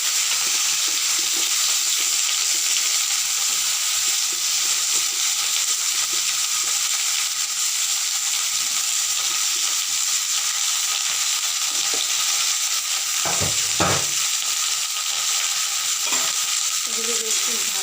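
Cut okra (ladies' fingers) frying in a pan, a steady, close hiss of oil and sizzle running throughout with a few brief stirring scrapes near the end.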